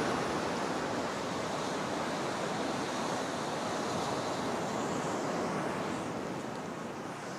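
Waves breaking and washing on a beach, a steady, broad rushing surf that fills the scene with some wind noise and no voices.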